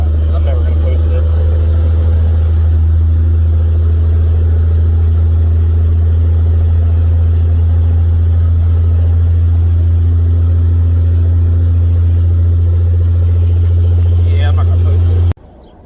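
A hotshot truck's engine idles with a steady, loud low rumble that continues unchanged for about fifteen seconds before cutting off abruptly at the end.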